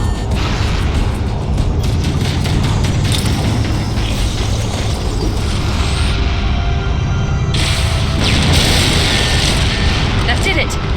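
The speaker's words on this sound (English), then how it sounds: "Use explosives on the other 3 reactors. That should be enough to trigger a wildcat explosion of the engines." Explosions tear through a ship's engine reactors in Halo: Combat Evolved, a loud, continuous roar of blasts and rumbling booms with a voice speaking over the din.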